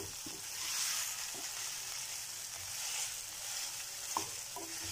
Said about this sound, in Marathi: पूर्ण मसाला परतून घ्यायचा आहे, खाली लागलेला काढून घ्यायचा आहे।